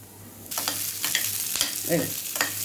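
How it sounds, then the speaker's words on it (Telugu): Onion frying in a pan alongside spice powder for chicken curry, a bright hiss of sizzling oil punctuated by several close spoon stirs and scrapes, no voices. "ఒక ఉల్లిపాయ వేసుకుందామండి. కొద్దిగా వేయించాలండి."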